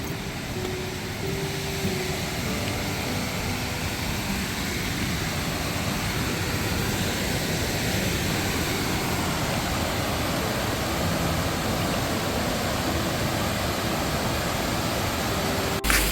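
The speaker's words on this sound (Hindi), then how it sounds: "अभी ये वाटरफॉल क्रॉस करके जाएंगे" Waterfall at Bheemdwari on the Shrikhand Yatra mountain trek, heard close and loud as an unbroken, even roar of rushing water that fills the whole clip without pause.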